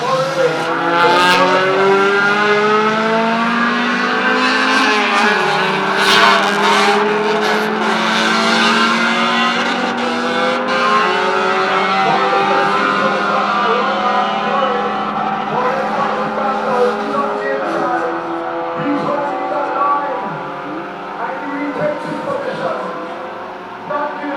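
Race cars at Jamwest Speedway street racing roar past one after another, engines revving and rising and falling in pitch with occasional tire squeal, loud and continuous, with a commentator talking over the action.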